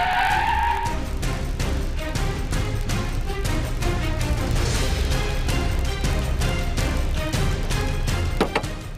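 A car skids hard on a road, its tires squealing loud and sustained for several seconds beneath a steady engine roar, close by and with no talking.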